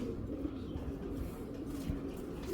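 Racing pigeons coo softly in low, rolling murmurs, close and continuous against a faint background hum, with no talking.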